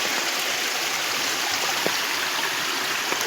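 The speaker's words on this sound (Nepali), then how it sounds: "पानी चाहिँ एकदमै धेरै मात्रामा परिरहेको छ" Heavy rain pours down outdoors in a hazardous spot, making a dense, steady hiss with no breaks and no voices.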